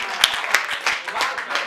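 At a Hindi poetry recital, the crowd gives a poet an uneven burst of clapping, with sharp individual claps standing out over a steady patter.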